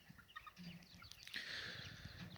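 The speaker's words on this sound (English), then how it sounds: "I have way too many Kelso chicks in this one right here." Kelso game chicken chicks in a nursery, faint high peeping and soft clucking, close but quiet, with a brief rustle in the background.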